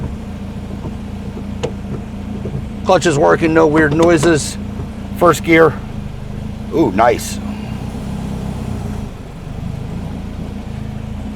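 A 1973 VW Super Beetle pulls away in first gear, its engine a steady low drone close by, with someone speaking briefly over it in the middle.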